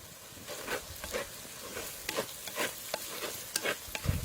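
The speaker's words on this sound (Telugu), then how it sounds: "ఈ మసాలా అంతా బాగా వేగిందండి." Masala spices frying in a pan for mutton paya, a soft steady sizzle broken by repeated scraping strokes of a spoon stirring, close and fairly quiet with no talking.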